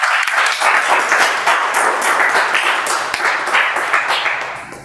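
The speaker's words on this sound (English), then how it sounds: "Let's give a good round of applause to Toastmaster Vindan." Audience applause at a Toastmasters club meeting, a loud, close round of many hands clapping in a steady flurry that holds for several seconds before easing slightly toward the end.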